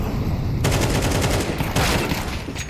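Rapid Five-seven pistol shots crack in a Counter-Strike 2 professional esports match, a quick volley of close gunfire over dense game noise.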